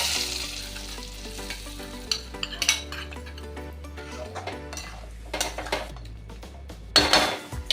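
Hot tadka tempering with ginger juice and asafoetida poured into a papaya and chana dal curry, sizzling loudly with clattering of a pan and spoon, then a fresh, louder burst of sizzle near the end.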